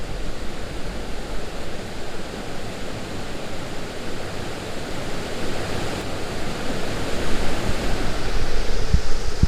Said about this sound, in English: It's a waterfall I never even knew existed.